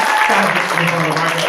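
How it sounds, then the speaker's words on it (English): Applause from a crowd, steady and fairly loud, with a voice coming through over the clapping. "So round of applause for these guys!"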